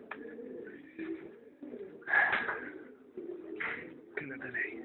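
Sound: bird calling

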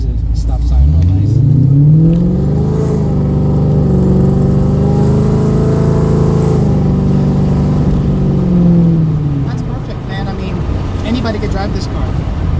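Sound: 800 hp Coyote Mustang with cams accelerating away from a stop

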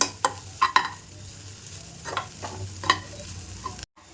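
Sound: frying and stirring in a pan

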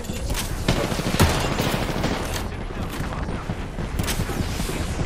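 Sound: sniper rifle gunfire in the video game Apex Legends

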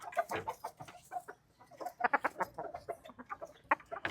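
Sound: chicken pullets clucking

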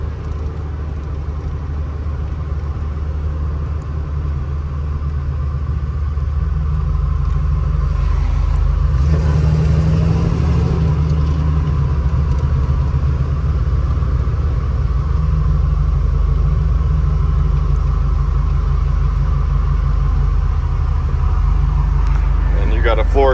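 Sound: 1949 Ford F1 V8 hot rod truck driving

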